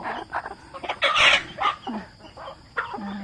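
Several chickens cluck busily in a farmyard at feeding time while a rooster crows loudly partway through. The calls are close and overlap in a steady jumble.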